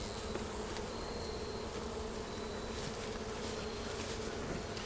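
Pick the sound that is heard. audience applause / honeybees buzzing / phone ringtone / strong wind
honeybees buzzing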